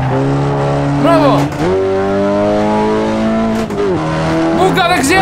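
A Hyundai i20N in the Assetto Corsa racing game runs at full throttle, its engine whining high and loud while the pitch climbs and drops sharply between gear changes, with tire squeal and voices talking over it.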